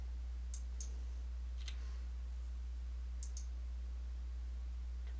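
Computer mouse clicking while setting slide durations in presentation software: a few sparse, faint clicks, some in quick pairs, over a steady low electrical hum.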